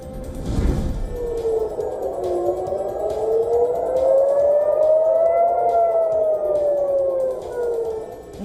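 Air raid siren wailing in Israel during a missile attack launched from Yemen, a single loud, steady tone slowly rising and falling over several seconds, after a brief burst of noise at the start, with no voices.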